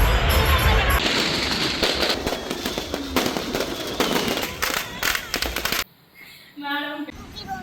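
Rapid strings of firecrackers crackle and pop loudly with fireworks bursts among them during Deepavali celebrations in Little India, Malaysia. The blasts stop abruptly, and a voice speaks near the end.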